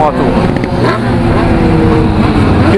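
A heavy BMW motorcycle over 200 kg, its engine roaring loud and steady up close, with someone talking over the sound throughout.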